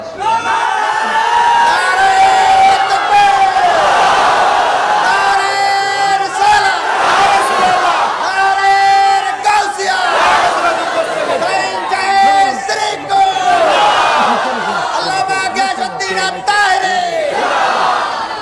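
A large crowd at an outdoor religious gathering in Chattogram shouts a slogan in unison, loud and sustained, rising in repeated waves of chanting with cheers mixed in.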